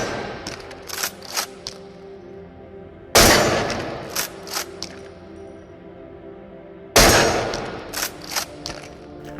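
A Mosin Nagant rifle fires three separate sharp shots several seconds apart, each a loud crack with a short tail, separated by clicks and rattles of the bolt being worked.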